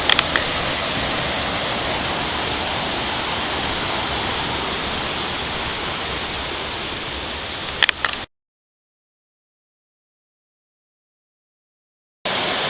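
A mountain brook beside the 19-mile Brook Trail rushes in a steady, full broadband wash, close and loud for about eight seconds, then cuts to silence before briefly resuming.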